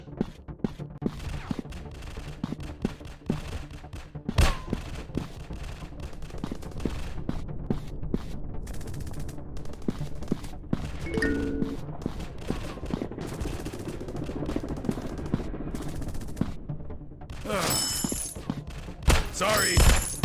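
Rapid bursts of gunfire from a first-person shooting video game, volleys and single shots cracking over a busy game soundtrack, with a sharper flurry of impacts near the end.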